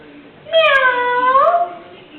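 A voice imitates a cat's meow, one drawn-out, rising and falling call, close and loud.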